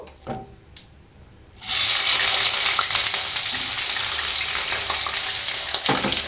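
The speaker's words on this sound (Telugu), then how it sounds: "ఇది కొంచెము ఫ్రై అవ్వాలి. 1 నిమిషము ఫ్రై అవ్వాలి." Chopped onion and curry leaves hit hot oil in a pan, breaking into a loud, steady sizzle after a few quiet knocks, and frying on continuously up close.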